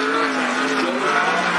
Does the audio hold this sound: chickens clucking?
no